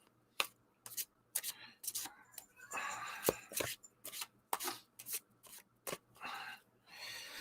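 Tarot cards, slightly larger than a standard Wizards Tarot deck, are shuffled by hand in repeated short riffling bursts with quiet pauses between them, close and fairly soft.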